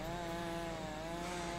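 Engine drone of a lawnmower in the LEGO Jurassic World video game, a steady buzzing hum that holds constant and loud throughout the brief moment, with no voices over it.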